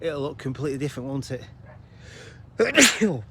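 A sharp, loud sneeze bursts out near the end, right after a person finishes speaking, outdoors on a snowy, extremely cold day.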